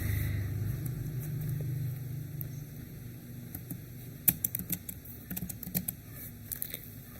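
Someone types numbers on a computer keyboard. After a low hum, a few quick bursts of close, crisp key clicks come in irregular clusters.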